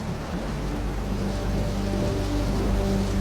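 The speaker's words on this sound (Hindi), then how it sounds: "2 दिन से लगातार बारिश हो रही है।" Steady, dense rain pours down continuously with a broad hiss, close and fairly loud, with no voices.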